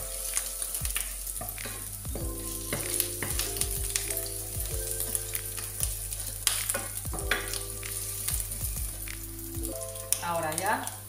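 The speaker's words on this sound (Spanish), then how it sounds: "Ahora ya le agrego la carne, medio kilo como os había dicho." Half a kilo of meat sizzles and fries in a pan at home, a steady crackling hiss broken by repeated scraping and stirring clatters, with faint background sounds and no talk.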